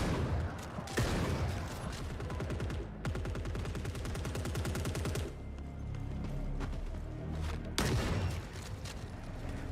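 Gunfire in the video game The Forever Winter, rapid repeated cracks in long rattling bursts with short gaps and sharper single shots, loud and close, filling most of the scene.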